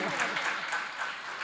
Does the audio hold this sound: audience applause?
yes